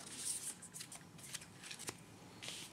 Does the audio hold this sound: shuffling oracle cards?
yes